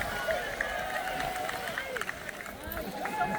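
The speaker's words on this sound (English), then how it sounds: "people are cheering them on" Beachgoers on a Florida Keys beach cheering on loggerhead turtles heading to the sea, a steady outdoor crowd hubbub with overlapping voices and excited shouts, continuous and moderately near.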